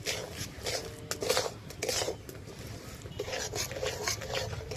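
Sugar melting into caramel in a pan over low heat for badam chhapa, stirred with soft scraping and rubbing strokes and a few light clinks of the utensil, quiet and close.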